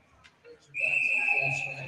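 An ice hockey referee's whistle blows for icing, a single sustained shrill blast lasting over a second after a short quiet lead-in, loud and clear against faint arena background.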